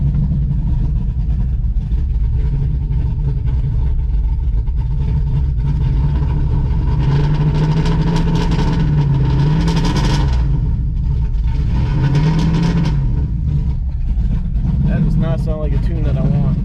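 A Chevrolet Camaro Z28 engine idles steadily and fairly loudly, a low continuous rumble with slight rises in pitch, while someone talks over it throughout.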